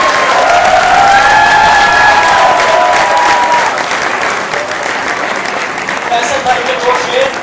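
A mushaira audience at a university bursts into loud, full applause to welcome a guest poet, sustained clapping with some cheering and a voice rising over it, gradually easing toward the end.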